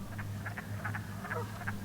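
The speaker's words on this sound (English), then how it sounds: "Love those wood frogs." Wood frogs croak in a forest wetland, a chorus of short, clucking calls repeating several times over a low, steady background hum.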